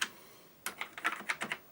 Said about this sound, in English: if I just start typing near the end of the line